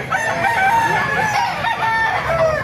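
Crowing and clucking chicken sounds come from a market with roosters on sale, against busy background noise. The calls are loud and close, with wavering tones throughout.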